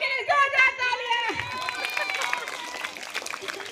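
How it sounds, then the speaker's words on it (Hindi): A school audience at an Independence Day celebration breaks into dense, steady applause to welcome a teacher, loud and continuous with crowd murmur mixed in, following a brief burst of nearby speech. "हमारे ही स्कूल की टीचर रेखा मैम के लिए जोरदार तालियां।"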